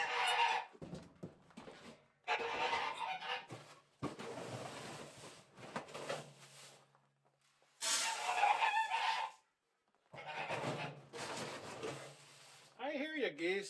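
Geese honking and clucking on a snowy winter homestead in frigid temperatures, loud close bursts of calls separated by pauses, with a person talking in between.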